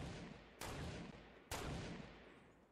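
Gunfire in the video game Fortnite: two sharp, fairly quiet shots about a second apart, each with a trailing echo, heard alone without talk.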